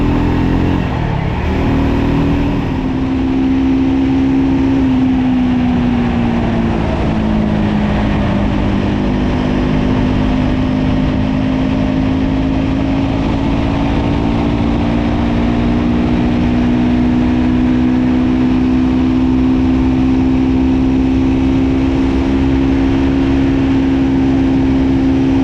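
Triumph Scrambler 400X motorcycle from 2025 being ridden, a loud, steady engine drone with slowly shifting pitch and constant wind rush, running continuously without talk.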